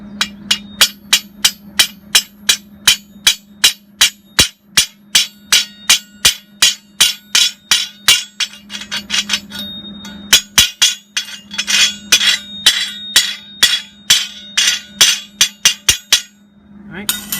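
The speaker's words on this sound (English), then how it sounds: "I have yet to take the slag off. I will do that because I want to show you guys the process." A hammer chips slag off a fresh weld bead from a Hobart Handler 140 welder, with dozens of sharp metallic strikes in a quick steady rhythm, close and loud, pausing briefly midway before resuming.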